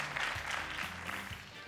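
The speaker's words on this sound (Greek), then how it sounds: "ένα χειροκρότημα από σας για σας" A studio audience on the Greek game show Wheel of Fortune claps steadily through a brief, fairly faint burst of applause.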